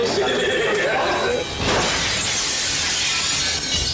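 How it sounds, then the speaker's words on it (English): A sliding glass door shatters loudly in an apartment being trashed, a sharp crash followed by a dense spray of breaking glass and tinkling shards lasting several seconds, with voices faintly present underneath. "Within seconds, his sliding glass door is reduced to shards."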